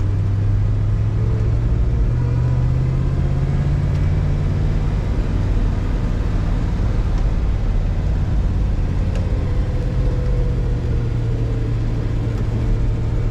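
A 1968 Buick GS 400 Convertible drives along with a low, steady engine rumble and road noise inside the cabin, the drone shifting slightly in pitch as it cruises.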